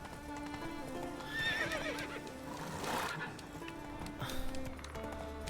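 Roach, a horse in The Witcher 3, gallops with steady clip-clopping hooves and gives a loud whinny partway through, both set against a constant game soundscape.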